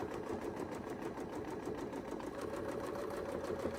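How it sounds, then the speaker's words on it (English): A sewing machine stitching a quilt along a template, a close, steady, rapid mechanical whir with an even motor hum and no talking. "so we'll sew this part"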